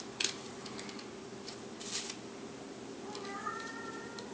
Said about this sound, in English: I'm sure you're hearing my cat in the background making wonderful kitty noises.